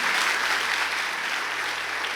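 A church congregation applauds the Lord, a dense, steady wash of many hands clapping at once for a couple of seconds.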